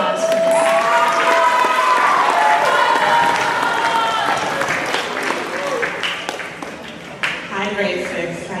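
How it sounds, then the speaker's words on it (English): An audience applauds Miss Sako, a grade 6 teacher, at middle school excellence awards, loud sustained clapping with children cheering and shouting over it, gradually thinning toward the end. "Big round of applause for Miss Sako."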